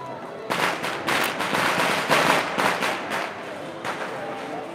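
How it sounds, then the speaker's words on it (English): Firecrackers and fireworks at the Valencia Fallas festival in 2023 burst in a rapid, irregular string of loud cracks and bangs, some close and some farther off, with a voice speaking underneath. "the fireworks that you can hear"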